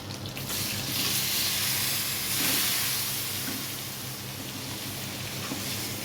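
Eggs fry in a hot pan with a steady, even sizzling hiss that holds at moderate loudness throughout, close by and with no voices.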